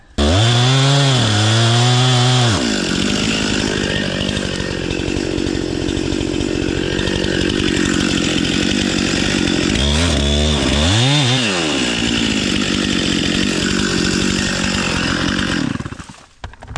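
A chainsaw cuts through a tree trunk during a rigged tree pull-over, its loud close engine revving up at the start, holding a steady roaring bite through the wood, revving again midway and dropping off at the end.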